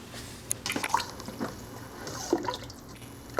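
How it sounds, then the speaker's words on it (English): Soup being stirred in a pot: cheddar cheese corn chowder, thickening as it cooks, gives quiet liquid sloshes and a few soft clinks of a spoon against the pot. The sounds are faint and scattered, with no talk. "we're going to stir"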